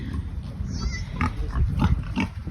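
Young piglets about three weeks old grunt and squeal on a farm, several close overlapping oinks in quick bursts while people talk nearby.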